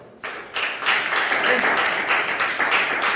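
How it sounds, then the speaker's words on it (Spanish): A church congregation applauds during a sermon, a dense burst of clapping that starts abruptly and holds steady, filling the room at moderate loudness with pulsing hand claps. "Un aplauso al Señor."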